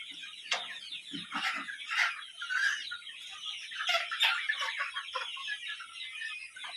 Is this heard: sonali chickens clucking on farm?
yes